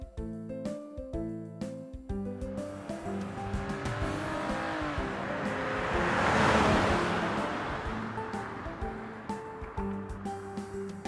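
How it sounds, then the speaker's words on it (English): A race car approaches and passes, its engine noise swelling to a loud peak midway and then fading, heard over light background music. "Race car."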